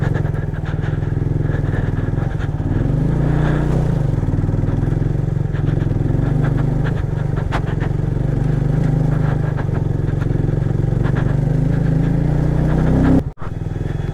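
Motorcycle engine droning steadily while riding a rough, muddy mountain road near a glacier in Astore Valley, loud and continuous with faint rattles, cutting off abruptly near the end.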